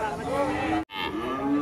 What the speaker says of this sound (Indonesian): Sapi super ini.